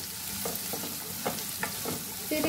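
Two freshly chopped onions frying lightly in a pan with cinnamon and a bay leaf for rajma, a steady close sizzle broken by several sharp scrapes of a spoon stirring across the pan.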